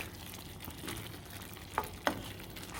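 Spoon stirring butter chicken sauce in a pot, a low steady simmer with soft scraping and two brief sharp knocks on the pot, close and quiet, with no talk.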